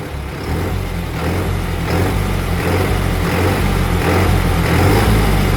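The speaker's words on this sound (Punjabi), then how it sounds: "ਇੰਜਣ 'ਚੋਂ ਇੱਕ ਗੂੰਜ ਦੀ ਆਵਾਜ਼ ਆਉਂਦੀ ਆ" A 5630 tractor engine hums and drones steadily up close, a continuous low rumble with a slight pulsing rhythm that grows a little louder over the span, with no voices.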